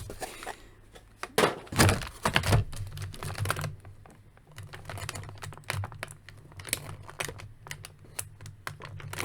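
Ties being threaded out of McFarlane DC Multiverse Death Metal Superman action figure packaging, heard up close as crinkling plastic with quick clicks and taps, louder bursts early and then a steadier fiddling patter, with no talk.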